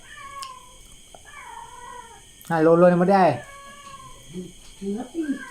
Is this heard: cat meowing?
yes